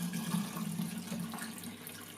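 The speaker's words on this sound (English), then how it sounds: "Okay, so that's us done with the developer now. I'll just pour this out." Used film developer is poured out of a tank while processing Kodak positive slide film, a soft, steady liquid trickle and splash that fades slightly toward the end.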